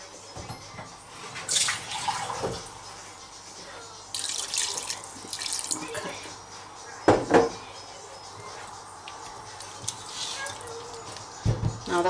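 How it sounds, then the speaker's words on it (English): A cup of water poured into a cooking pot of spiced mutton curry, a short splashing pour amid kitchen clatter and background noise. "So I'm adding a cup of water here,"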